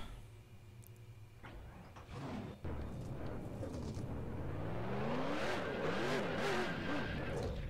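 A field of race car engines in NR2003 at Kansas rumbles low, then a start kicks in and multiple engines rev in overlapping rising and falling wails, growing louder toward the end.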